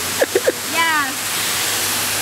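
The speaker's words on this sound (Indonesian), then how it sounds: "Ini di air terjun Pampang." Steady broadband rush of the Berambai waterfall fills the clip, loud and continuous, with brief voices and a short vocal sound riding over the water noise near the start.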